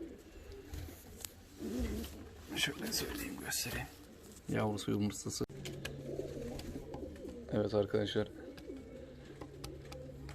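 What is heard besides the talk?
fancy costume pigeons cooing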